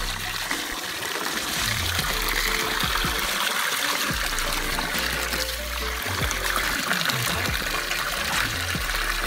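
Alkaline spring water pouring at about 7,000 feet in the Swiss Alps beside a small shed, a loud steady rushing splash that fills the whole stretch without talk.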